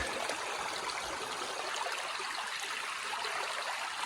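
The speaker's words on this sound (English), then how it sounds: "So I had this gurgling brook" Steady rushing and trickling of a brook, a continuous broadband wash of water with no voices, constant and fairly close.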